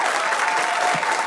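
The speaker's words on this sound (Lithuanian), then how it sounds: "su jūsų plojimais pradedam" An audience claps together in a brief, dense burst of applause, close and loud, steady across its short length with no pauses.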